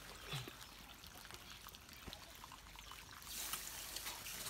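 Irrigation water trickling and splashing from an opened tap on a farm, a soft steady flow that grows a little louder near the end.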